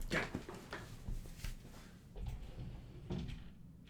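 A sliding bathroom door rolls shut with a few soft knocks and scrapes, fairly quiet in an echoey small room.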